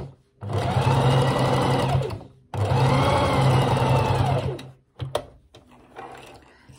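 A sewing machine stitches a wool coat, running in two long steady bursts of about two seconds each, close and loud. A few short clicks and brief stops follow.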